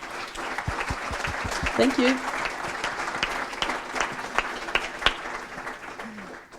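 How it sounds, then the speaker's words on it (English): Applause from the audience at a sustainable development forum in Switzerland, honouring two female leaders, a continuous crowd of clapping hands with a few sharp louder claps, while a speaker's voice comes through the clatter. "please give a round of applause to 2 female leaders"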